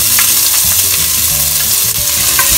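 Onions sautéing in a pan for Filipino Jollibee-style sweet spaghetti, a loud, continuous close sizzle broken by irregular clinks and scrapes of stirring, with no voices.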